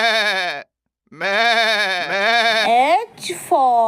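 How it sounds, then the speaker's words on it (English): A goat bleats twice in long, wavering cries, loud and close, with a short gap between calls and a brief rustle near the end. "G for goat."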